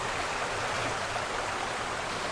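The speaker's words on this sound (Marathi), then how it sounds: "निवेंडी गावातील धबधबा देखील यापैकी आहे" Nivendi waterfall beside a main road in Ratnagiri, Konkan, during the monsoon pours as a steady, close rush of water, an even hiss that never lets up.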